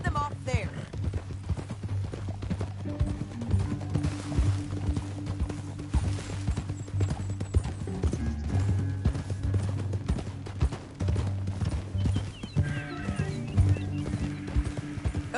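Horse hooves clip-clop steadily in Red Dead Redemption 2, a rhythmic trot running throughout under a loud, continuous music score, with a few whinnies and scattered gunshot-like hits mixed in.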